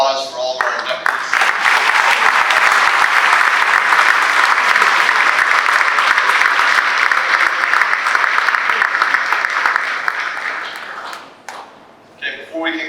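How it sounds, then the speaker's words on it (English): A crowd at the Hot Dog Hall of Fame ceremony bursts into loud, sustained applause for the inductees, holding strong for about ten seconds before tapering off into scattered claps and quiet. "let's give a round of applause for all of our inductees"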